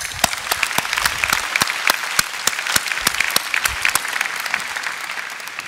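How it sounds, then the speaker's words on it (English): A conference audience applauds award winners at the SIGGRAPH 2017 keynote, a full crowd clapping with distinct sharp claps standing out from the steady roar, holding through and easing slightly at the end. "Let's give a big round of applause to all the award winners once again."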